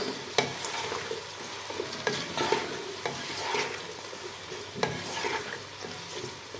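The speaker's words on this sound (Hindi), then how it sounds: "और अदरक जो मैंने इसमें 2 चम्मच ऐड की है, इसे अच्छे से पकाऊंगी" Ginger sizzles in a pot of oil while a spoon scrapes and stirs it, producing repeated clacks and scraping strokes over a continuous soft frying hiss, close and moderately quiet.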